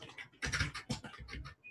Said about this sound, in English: That's your typing.